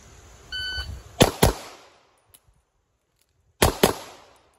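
Two pairs of sharp, loud gunshots from a shooting drill, each pair fired in quick succession with a pause of about two seconds between them, after a short electronic beep that may be a shot timer.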